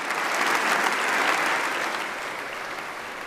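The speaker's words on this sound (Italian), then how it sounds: "Un grande applauso." Dense, sustained applause from a crowd at an Italian government reception at Palazzo Chigi, loud and even throughout before easing slightly toward the end, with no voices standing out.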